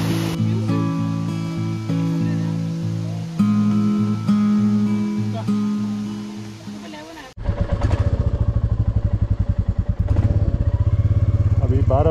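A Royal Enfield Classic 350 motorcycle ridden in Meghalaya near a waterfall, a loud steady engine drone with gear-shift dips, then a rougher rumbling stretch after a sudden break.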